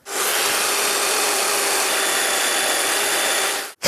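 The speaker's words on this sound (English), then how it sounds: "Let me cut that real quick and I'll bring you back." A power saw cuts steadily through a metal part for a homemade planishing hammer, a loud, continuous harsh buzz lasting several seconds before stopping abruptly, with a brief restart at the end.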